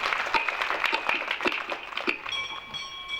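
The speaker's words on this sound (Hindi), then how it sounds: "इनके लिए एक बार जोरदार ताली बजाइएगा।" A crowd at a Shiv Mahapuran religious discourse gathering breaks into brief applause: a dense patter of clapping that thins out while a sustained musical tone rises beneath it.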